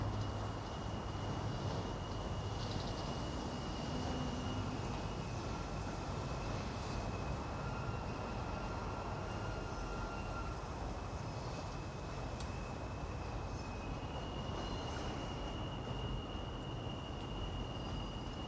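A New York subway train crossing the Williamsburg Bridge rumbles past in a steady, loud roar of wheels on track, with a faint high metallic whine running underneath throughout.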